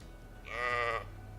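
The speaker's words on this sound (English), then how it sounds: "I changed the weapon to do the sheep sound. Do you hear the sheep sound?" A sheep bleat used as a weapon sound effect in an Unreal Engine game plays once, a single wavering bleat of about half a second, fairly loud against a quiet steady background hum.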